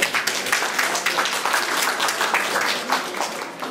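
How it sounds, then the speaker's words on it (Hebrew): Steady audience applause at a gallery exhibition opening, with many hands clapping close by in a continuous, moderately loud patter and no voices over it. "אני חושב שמגיע לרלי הרבה מחיאות כפיים."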